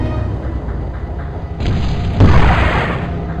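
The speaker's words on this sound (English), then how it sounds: "I destroyed your gun tower." A gun tower blows up in the Battlezone video game, a loud deep boom swelling over a constant engine rumble and then roaring on for about a second before fading back.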